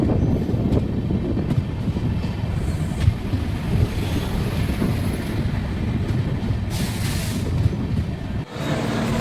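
An Ratnachal Express LHB passenger train pulls out of Tuni station, a steady loud rumble of wheels and carriage noise with wind rushing past the microphone, continuous and close throughout.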